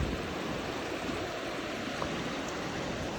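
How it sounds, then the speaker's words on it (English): Continuous rushing water, a broad steady roar of a flowing river in Sweden along the Gröna Bandet trail, close and even throughout with no voices. "And this is the river."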